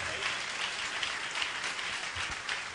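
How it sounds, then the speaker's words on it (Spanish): A church congregation bursts into loud, sustained applause, a dense wash of clapping hands that holds steady throughout with no break. "Qué tremendo, fuerte el aplauso."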